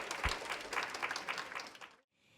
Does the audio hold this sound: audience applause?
yes